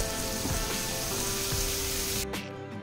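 Chopped red pumpkin tipped into a frying pan of hot oil with turmeric, a loud continuous sizzle that cuts off sharply near the end.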